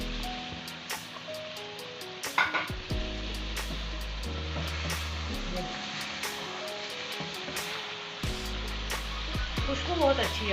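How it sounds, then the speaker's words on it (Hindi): Softened cabbage and chicken stir-fry in a pan with a squeeze of lemon, a continuous soft sizzle with occasional scraping and clatters, running under background music. "कैबेज हमारी गल गई है, बस हम थोड़ा इसको भूनेंगे, इसके बाद हम इसको उतार लेंगे।"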